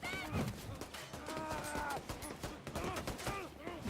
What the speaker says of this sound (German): Du versuchst um mich drumherum zu schießen